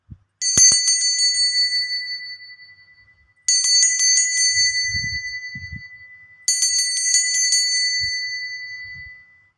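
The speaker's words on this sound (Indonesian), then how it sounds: "saya akan memulai dengan ditandai lonceng berbunyi." A bright bicycle-style bell rings three times in spaced strokes to signal a start, each ring loud and clear and left to fade slowly into silence.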